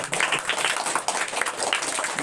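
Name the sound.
students applauding at a school prize distribution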